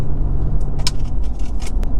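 A Ford truck with a shifting-jerk fault drives along a road, a steady low engine and road rumble heard from inside the cab, with a few faint rattles and scrapes on top.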